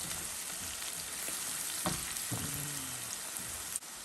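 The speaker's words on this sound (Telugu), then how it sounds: "ఇప్పుడు నేను ఇందాక మిక్సీకి వేసుకున్న పచ్చిమిరపకాయల కారం వేసేసుకుంటున్నాను. వేసి ఇది కూడా ఒక 2 నిమిషాలు వేయించుకుందాం" Green chili paste fries in a pan with a steady, close hiss and a few soft stirring scrapes, no talking over it.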